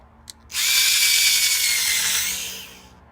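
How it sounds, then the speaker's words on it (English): A power drill grinds off the top of a rivet on a Corgi 238 Jaguar Mk10 Saloon die-cast model car, one steady high whine lasting about two seconds after a small click, then tapering off. "I get my bigger drill, and we just get the top of the rivet off of that one"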